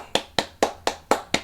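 Six crisp hand claps in an even, moderately quick rhythm, close and fairly loud, with no voices.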